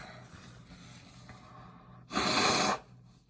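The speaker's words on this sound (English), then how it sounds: "I'm gonna blow my nose now." A single loud, wet nose blow lasting under a second, rising suddenly out of quiet room noise and cutting off sharply.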